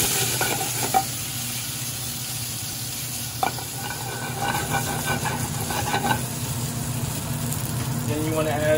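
Penne pasta tossed and stirred in a pan of Alfredo sauce, with a steady sizzle, soft scraping, a few utensil knocks, and a person talking briefly over it.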